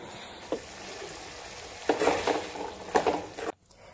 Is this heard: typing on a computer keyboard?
no